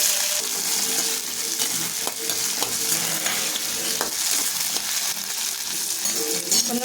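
Small shallots sizzling and frying in hot oil while being sautéed for a tomato thokku, with steady crackling and occasional stirring clinks of a utensil against the pan, close and continuous throughout.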